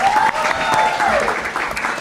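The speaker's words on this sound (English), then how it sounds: "Applaud for TJ" A live radio show audience bursts into brief applause for a co-host, a short dense crackle of many clapping hands, fairly loud and continuous.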